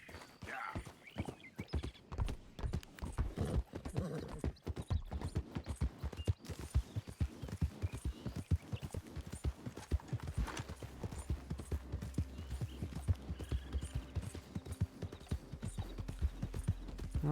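Horse hooves clip-clop steadily in Red Dead Redemption 2, a continuous close trotting rhythm of sharp thuds with occasional game sounds in the background.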